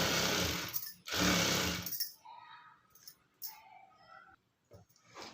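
A sewing machine stitches saree cloth for a blouse back neck in two loud, rapid mechanical bursts. Quieter clicks and handling noises follow, and a voice speaks softly at times.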